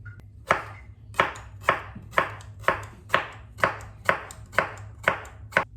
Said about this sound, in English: what I'm going to do is slice them into half moons